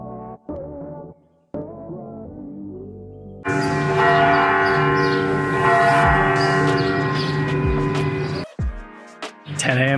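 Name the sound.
church bells chiming at 10 a.m. in Tirana, Albania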